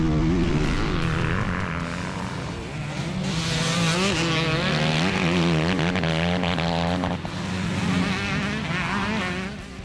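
Two-stroke dirt bikes racing on a motocross track, several engines screaming and rising and falling in pitch as they pass close by, loud and continuous.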